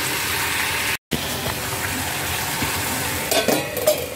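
Brinjal cooks in oil in a pan, giving a loud, continuous sizzle and crackle heard close up, broken by one short silence, with a few light clinks of a utensil near the end.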